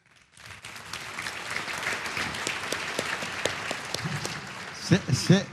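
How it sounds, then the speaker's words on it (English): Clapping from an audience at a corporate club event swells after a quiet start and holds as steady, crowded applause, with a voice speaking over the final moments. "Save the applause."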